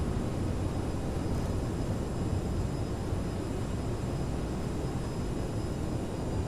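A CRJ-700 regional jet in Microsoft Flight Simulator rolls out after landing with its thrust reversers deployed, producing a loud, steady, broadband engine roar that holds constant throughout.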